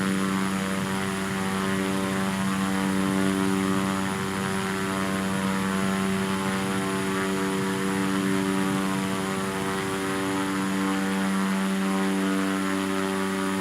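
An airplane taking off from a runway, heard as a loud, continuous propeller-engine drone with a strong steady hum that holds level for over thirteen seconds, with no talking.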